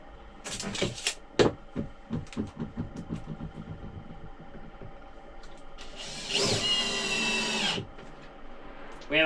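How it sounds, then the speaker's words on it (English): Power drill driving screws to mount a Lagun table on an Alberg 30 sailboat, short close whirring bursts and knocks followed by a longer, louder sustained drilling run near the end. "we'll screw it in"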